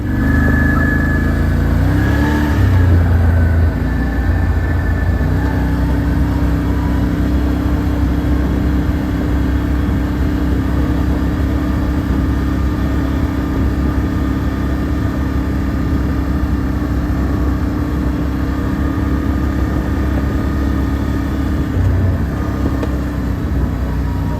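A Coleman KT196 go-kart engine runs on packed gravel, a loud steady drone that holds constant throughout with only slight changes in pitch.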